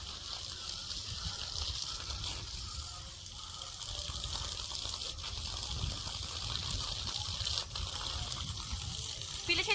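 Water pours from a pump pipe onto a vegetable field in summer heat, giving a steady trickling gush that continues throughout while people talk quietly nearby.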